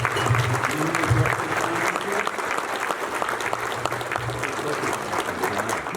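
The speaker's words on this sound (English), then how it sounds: "Could you give a round of applause to Best Pass and Isaac" An awards banquet audience applauds the sponsors at a trucking Hall of Fame event, sustained moderate clapping throughout with faint voices murmuring underneath.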